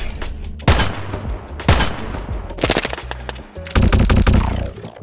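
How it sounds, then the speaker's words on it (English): Machine gun fire built with the Krotos Weaponizer plugin, sounding as four loud, close bursts of rapid shots separated by brief gaps. "This plugin allows you to make the craziest weapon sounds."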